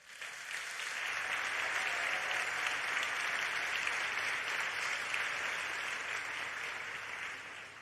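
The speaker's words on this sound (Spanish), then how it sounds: "Un aplauso para ella, por favor." An award gala audience applauds the author of the novel Marciano, a full, even round of clapping that swells in and holds steady throughout at a moderate distance.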